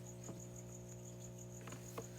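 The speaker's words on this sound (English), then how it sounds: "You've got crickets in there." Feeder crickets in a reptile tub chirp in a soft, steady pulsing trill, faint and close, with a few light taps and rustles scattered through.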